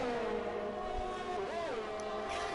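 Race cars in a racing video game approach the final corner of the Baku circuit: a steady, loud engine whine with pitch sweeping up and down mid-way, running continuously throughout.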